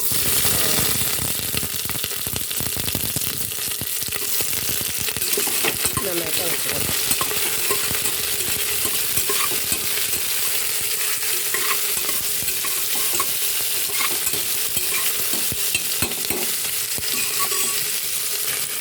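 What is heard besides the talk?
spices frying in hot coconut oil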